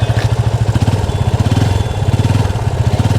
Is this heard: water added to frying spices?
no